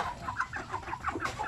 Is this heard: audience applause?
no